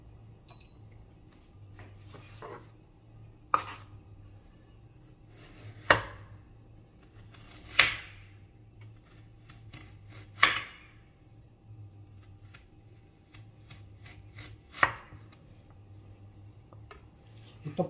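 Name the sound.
peeling potatoes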